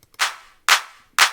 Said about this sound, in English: I'm going to find a clap that I want to use.